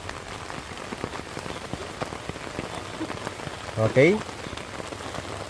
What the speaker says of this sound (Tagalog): isang maulan na hapon